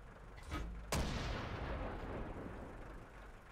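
A heavy tank cannon fires once in World of Tanks, a sharp booming blast followed by a long rolling decay, with a softer shot just before it and no talking.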